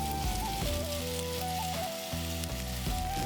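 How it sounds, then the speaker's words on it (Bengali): Boiled drumsticks (moringa pods) go into hot oil in a wok over a tempering of dried red chillies, setting off a loud, continuous close sizzle with faint steady tones in the background. "তারপরে সেদ্ধ করা ডাঁটাগুলো কড়াইয়ের মধ্যে দিয়ে দিই।"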